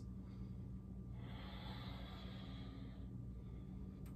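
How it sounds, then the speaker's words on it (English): Slow, deep breath drawn in during a yoga flow, a soft airy rush rising and fading over a couple of seconds against a steady low background hum. "Take about three more deep breaths"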